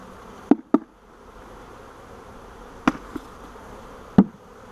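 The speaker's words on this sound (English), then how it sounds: "We're going to let the bees climb onto the frames" Honey bees buzzing at a swarm catch box fitted with frames: a low, steady hum throughout, broken by a few sharp knocks or taps from the box.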